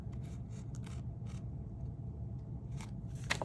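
Scissors snipping thread on a floral journal project, several short crisp snips scattered over a soft background hum, close and quiet.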